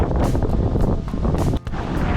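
Strong wind blows at Boracay beach, a steady loud roar with gusting buffeting against the microphone and surf-like wash, briefly dipping near the end.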